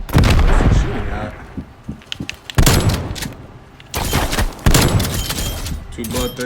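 Video game gunfire from a hardcore-mode shooter: several loud, sharp bursts of shots in quick clusters, with voices talking between and over them.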